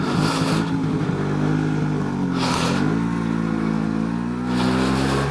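A 1979 Vespa P200E scooter with a grip shifter, ridden around a neighborhood, its small engine droning steadily close up, pitch rising and falling through throttle changes and shifts, with bursts of wind noise.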